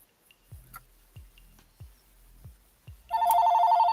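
A telephone rings in short repeated trills near the end, loud and close, following several soft thumps in a quiet shop.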